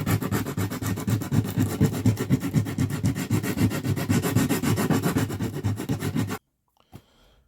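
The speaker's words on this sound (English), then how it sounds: "come in with a small sandpaper." Small sandpaper rubs back and forth on the wooden bridge of a sassafras acoustic guitar in quick, even close strokes for several seconds, then stops, leaving near silence with one brief soft knock.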